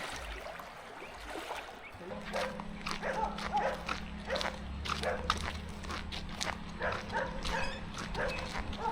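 Guard dogs bark at a house near Fagasa Bay in American Samoa, with repeated sharp barks in an irregular stream and some overlapping. They sound a little distant against a low steady hum. No one speaks.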